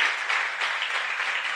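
Dense, even applause from a lecture audience at a Ramayana discourse, a brief continuous wash of many hands clapping close together without a break.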